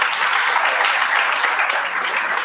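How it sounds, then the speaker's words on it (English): Applause from an audience for Dr. Simpungwe at a regional adolescent health conference, dense steady clapping filling the whole stretch at a loud, even level. "Please let's give Dr. Simpungwe a round of applause"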